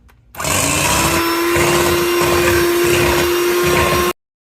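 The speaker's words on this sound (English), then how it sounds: "I'm going to beat it until it forms the stiff peaks, like until it's whipped" Electric hand mixer whipping one pint of whipping cream to stiff peaks, a loud steady motor whine running unbroken for about four seconds with no talking.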